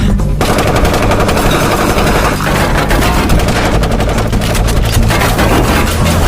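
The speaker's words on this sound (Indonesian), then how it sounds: "berlindung dari tembakan Tony dan Aza serta anak buahnya" Dense, continuous bursts of rapid gunfire fill the scene, loud and relentless, with overlapping shots rattling throughout and no voices.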